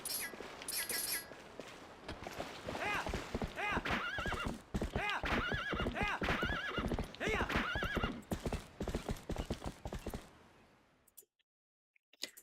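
A horse in a Zelda video game neighs loudly, then its hooves clip-clop in a brisk, repeated rhythm close up, fading out near the end.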